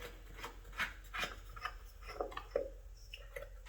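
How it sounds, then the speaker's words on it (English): A threaded filter nut being twisted off the bottom of a Craftsman shop vac filter, giving soft, close rubbing and rasping scrapes in short bursts, faint and quiet with no talking. "So I just twist the nut off the bottom here."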